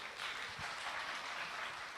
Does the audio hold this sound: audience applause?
yes